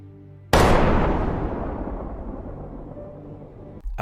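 A gunshot in an Alice in Borderland scene lands as a single loud, booming blast with a long rumbling decay that fades over several seconds, then a short burst of noise at the end, with no voices.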